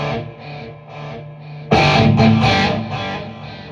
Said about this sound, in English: in the effect chain is now some delay and some reverb that gives it a little bit of time